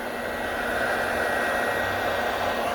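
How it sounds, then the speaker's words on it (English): Heat gun warming the plastic of a car headlight outdoors in a parking lot: a loud, constant roaring blower hum with no breaks, and no talking over it. "a heat gun. Now I'm gonna warm up the plastic"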